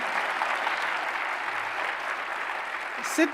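Audience at a closing ceremony applauding themselves, a steady dense wash of clapping throughout with a brief louder burst near the end.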